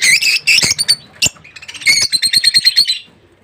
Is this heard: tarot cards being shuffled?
no